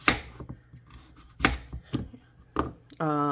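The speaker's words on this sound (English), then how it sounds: "So I just have the neck initially, and then I just cut slices" A kitchen knife cuts slices from the neck of a butternut squash, landing about three firm, separate cuts on a board with pauses between them. A short voiced sound follows at the end.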